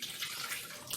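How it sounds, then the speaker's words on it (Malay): Water pours quietly into a kitchen blender in a brief, steady splashing stream lasting about a second. "Masukkan sedikit air dalam blender."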